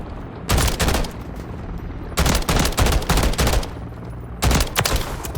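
Three loud, close bursts of DG-56 burst-rifle gunfire in Modern Warfare 3 gameplay, each a rapid cluster of sharp shots with short pauses of quiet in between.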